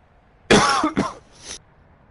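Two sharp coughs from a person close to the microphone during a live PS4 game broadcast, the first harsh and loud, the second shorter with a fading tail, in an otherwise quiet room.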